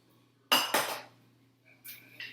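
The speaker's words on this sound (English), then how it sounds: "you can place your boiler to the side" A metal boiler pot from a sweet tea preparation set down to the side in two quick, close clanks, followed by fainter light clinks.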